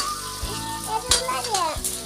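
Onion frying in a pan gives a steady bubbling sizzle, broken by a few sharp clinks and scrapes of stirring.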